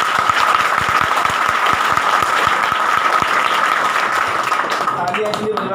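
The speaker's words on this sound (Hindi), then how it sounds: "जोरदार तालियां" Loud, sustained applause from a class of students at a competitive-exam coaching session, with dense clapping and rhythmic claps running through it, then quickly fading at the end as a voice begins to speak.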